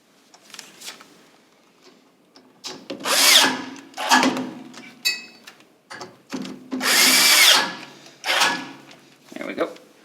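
A power drill drives Torx screws into a Weil-McLain SlimFit boiler during assembly, with several short bursts of whirring and clicking, close and loud, interspersed with handling noises and someone talking.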